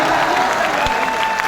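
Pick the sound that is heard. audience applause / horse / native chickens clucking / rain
audience applause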